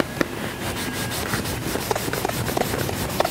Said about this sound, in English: Go ahead and rub it.